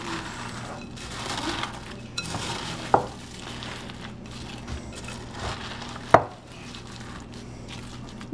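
Meatloaf mixture of ground meat and crackers worked by hand in a bowl, soft squelching and pressing at close range with a couple of sharp knocks against the bowl, no voices.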